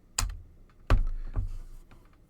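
A few separate key presses on a computer keyboard, close and crisp, spaced unevenly over a couple of seconds in an otherwise quiet room.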